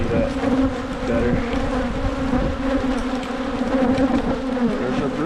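Honeybees buzz in a dense, steady drone from an opened hive during a January inspection, close and constant throughout with no voices.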